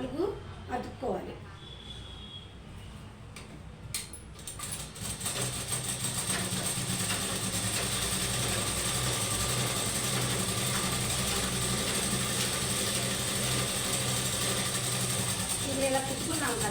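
A sewing machine stitches Punjabi dress pants in a steady, close mechanical whir that runs without a break after a few brief handling clicks at the start.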